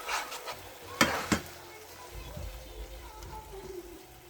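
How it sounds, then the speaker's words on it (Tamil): A spoon stirs goat intestine gravy in a pan, giving a couple of sharp scrapes against the metal over a soft, wet bubbling simmer. "நல்லா கிண்டி விட்டுக்கலாம்"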